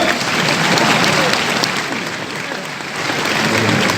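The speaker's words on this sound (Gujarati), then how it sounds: "તાળી પાડો." A large crowd applauds at a BAPS saints' gathering in Ahmedabad, a loud dense sustained clapping that dips briefly mid-way and swells again, with some voices mixed in.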